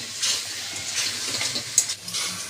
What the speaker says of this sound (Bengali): মাংসটা কিন্তু একটু বেশিক্ষণ ধরেই কষতে হবে